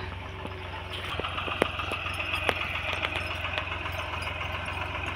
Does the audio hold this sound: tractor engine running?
yes